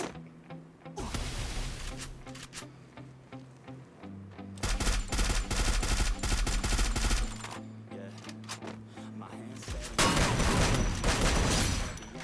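Sustained automatic gunfire in Free Fire, long rapid bursts in three loud stretches separated by short lulls, dense and close, layered over steady game background sound.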